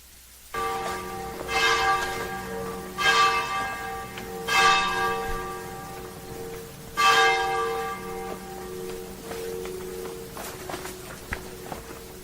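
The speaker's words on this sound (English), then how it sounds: "Let's listen to them bells one more time." Church bells ring out in the hilltop town of Frascati, Italy, a few strong peals with ringing overtones that fade between strikes, heard at moderate distance over a quiet outdoor background.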